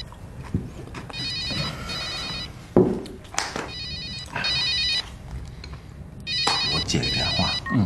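A telephone ringtone chimes in repeated electronic bursts, three clear rings separated by pauses, with people talking in between at close range.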